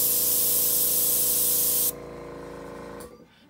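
An airbrush blowing alcohol ink petals dry, a loud steady hiss of air that drops to a quieter hum partway through, then fades out.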